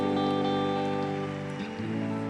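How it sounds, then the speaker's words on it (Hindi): A church congregation claps in praise during a Sunday holy communion meeting, a dense, steady wash of many hands that carries on through the whole stretch with a sustained tonal backing underneath. "तारीफ करें जोर से, तालियों के साथ"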